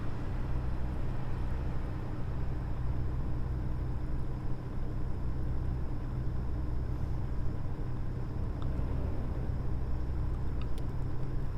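A truck engine drives steadily in American Truck Simulator, a continuous low droning hum with constant road noise and no breaks, moderately loud throughout.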